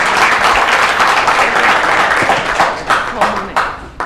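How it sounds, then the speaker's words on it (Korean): An audience claps at a Korean politician's book launch event, a steady burst of applause that thins into scattered claps toward the end. "다시 한번 여러분 응원의 박수를 한번 더 부탁드립니다."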